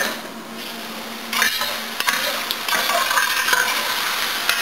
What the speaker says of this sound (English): my mushrooms have cooked down a little bit, and I'm about to give them a stir